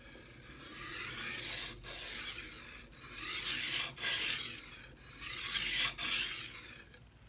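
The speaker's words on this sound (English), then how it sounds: "we'll do some stropping" A blade stroked across a coarse sharpening stone with abrasive mud, five or six rhythmic rasping strokes, each a steady hiss with short pauses between, close and fairly quiet.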